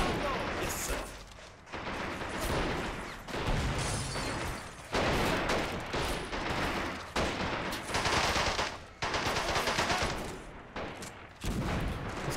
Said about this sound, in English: Get this machine gun working.